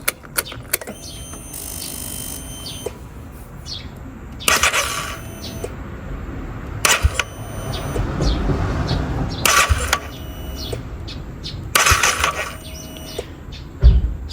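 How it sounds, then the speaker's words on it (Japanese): Honda Rebel 250 motorcycle being started in a workshop after a cam chain tensioner replacement, with several short bursts of starter cranking and brief engine catches over mechanical clicks and clatter, close by. "ちょんちょんってエンジンスタートをします"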